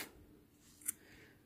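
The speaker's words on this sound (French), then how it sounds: "je vais couper le fil" Scissors snip crochet yarn once, a single brief quiet cut in a calm room after a stretch of near silence.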